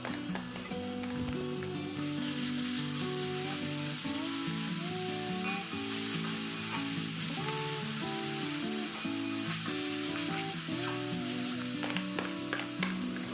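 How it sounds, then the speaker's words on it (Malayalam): Sliced onions frying in a pan with crushed ginger, green chilli and garlic, a steady close sizzle with occasional stirring running continuously beneath prominent background music. "ഇവിടെ സവാളയൊക്കെ വഴണ്ട് വന്നപ്പോഴത്തേക്കും ഞാനിവിടെ ഇഞ്ചി, പച്ചമുളക്, വെളുത്തുള്ളിയൊക്കെ ചതച്ചത് ഇട്ട് കൊടുക്കുകയാണ്."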